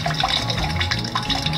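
Water running through a bucket sluice concentrator, a close, steady trickling and splashing flow with bubbly gurgles, heard alone.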